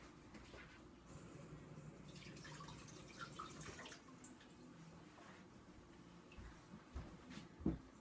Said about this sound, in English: Let me go rinse my hand off real quick.